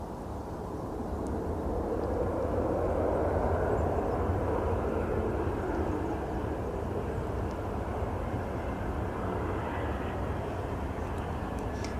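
A fixed-wing aircraft roars steadily at Edinburgh Airport, a broad loud rumble that holds near-constant for the whole stretch.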